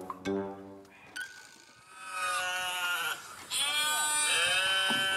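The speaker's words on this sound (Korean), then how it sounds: "양 울음소리." Recorded sheep bleats play from a small electronic device, several wavering, nasal calls in succession, clear and fairly close.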